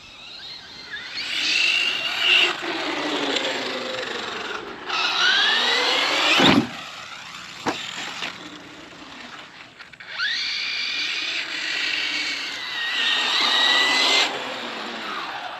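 Traxxas RC monster truck electric motor whining in rising and falling high-pitched sweeps as throttle is applied and released outdoors, in several bursts with brief pauses and thumps between them.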